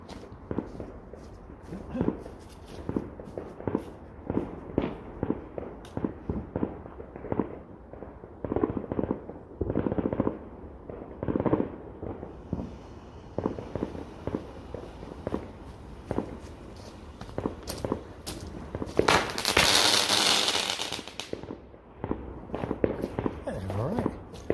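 Firework shot tubes from a budget selection box go off outdoors at night in a rapid string of sharp pops and cracks. A louder hissing burst comes near the end, and people talk in the background.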